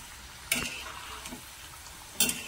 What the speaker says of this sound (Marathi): तेल चांगलं गरम झालेलं आहे। आता या शंकरपाळ्या कापलेल्या हे सोडून घेऊया